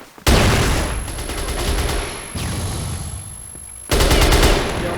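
Rapid gunfire erupts in a CrossFire video game clan war, loud bursts of shots in two or three dense volleys with brief gaps, close and harsh.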